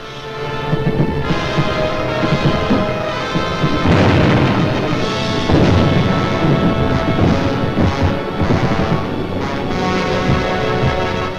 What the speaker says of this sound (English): Millions of firebombs rained down on the great city of London.